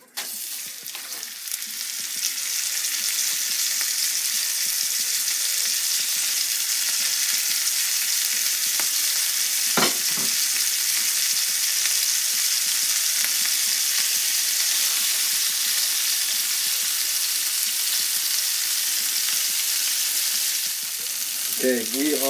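A.1. steak burgers fry in a pan with a little bacon fat, a loud steady sizzle that crackles near and continuously, with one brief scrape partway through and no voices.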